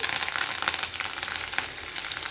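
Mustard seeds and dried red chillies sputtering in hot oil for pulihora, a close, continuous crackling sizzle with rapid tiny pops.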